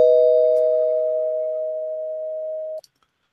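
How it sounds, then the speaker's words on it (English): A single struck bell rings out as a spoiler-warning sound effect on a comic book podcast, a clear sustained tone that fades gradually before cutting off abruptly near the end. "I'm going to ring the spoiler bell because some of the stuff we may say may end up going into spoiler territory"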